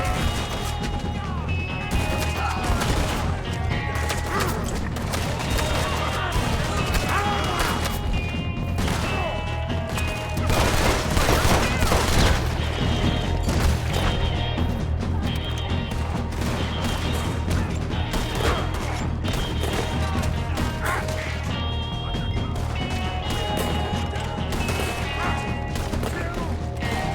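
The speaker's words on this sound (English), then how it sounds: "Keep shooting!" A Red Dead Redemption 2 shootout rattles with dense, repeated gunfire, sharp cracks and crashing impacts layered over rumbling game sound, loud and nearly continuous from start to finish.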